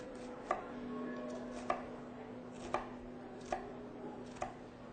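A knife slicing through an onion on a cutting board, five evenly spaced crisp chops over about five seconds against a faint background hum, with no one talking.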